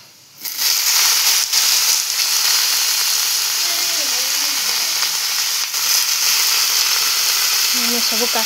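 Chopped vegetables for a pui (Malabar spinach) mustard curry drop into a hot kadhai and burst into a loud, steady sizzle that starts abruptly and keeps going at full strength.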